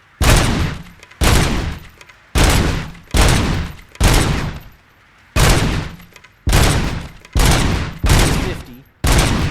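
Loud, close gunfire on a calibration range in RoboCop: Rogue City comes in nine heavy bursts, each a second or so long with short gaps between, in a steady rhythm.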